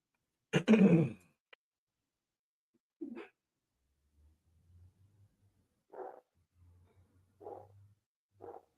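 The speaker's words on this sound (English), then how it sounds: "Y'all hear my neighbor's dog?" A neighbour's dog barks faintly from some distance in a few short, spaced bursts, after a loud throat-clearing close by and amid a quiet low hum.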